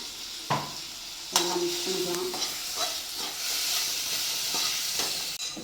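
Spices being stirred and roasted in a pan for a ground-masala fish curry, with a steady sizzle and frying hiss under repeated scraping strokes of a spoon against the pan, close and continuous.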